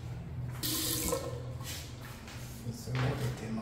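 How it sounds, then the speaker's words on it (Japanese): Water runs from a shower tap in the bathroom of a newly completed three-storey rental building, a steady hiss with louder bursts, heard close alongside faint background voices. "水も出てます"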